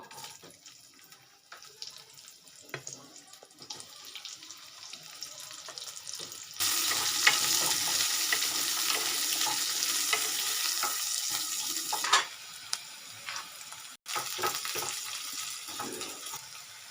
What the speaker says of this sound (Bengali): এবার আমি এর মধ্যে পেঁয়াজগুলোকে ভেজে নেব।